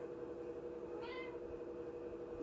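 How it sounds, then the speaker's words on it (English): A house cat meows once, a short rising-falling call in the middle of a steady, quiet indoor background hum. "kitty's meowing at me"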